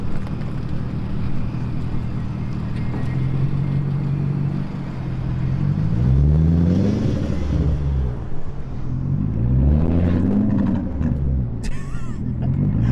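A Ferrari F50 engine fitted with a Wisesport kit is cranked and revved, giving a loud, close rumble that rises and falls in two strong revving swells over a steady idle.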